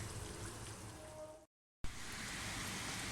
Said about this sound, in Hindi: आज हमारे यहाँ माशाल्लाह बारिश हो रही है